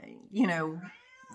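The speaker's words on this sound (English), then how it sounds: "Sorry, I had to shut my cat up." A house cat lets out one loud, drawn-out meow close by, preceded by a brief murmur of a person's voice.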